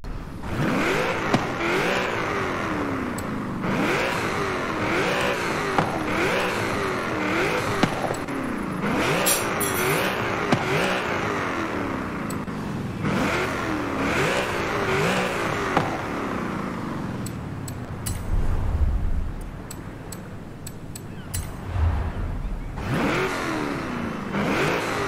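A car engine in the racing game Forza Horizon 5 revs repeatedly through rising and falling sweeps, loud and close, with gear-change dips, then settles into lower rumbling bursts toward the end.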